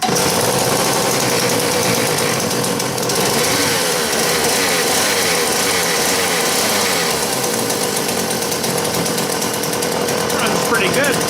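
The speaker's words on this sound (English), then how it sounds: "she's one of the old saws that smokes like crazy until it gets going a bit" An old smoky chainsaw, choke set and throttle locked, starts and runs at a loud, continuous buzzing idle up close, with no talk over it.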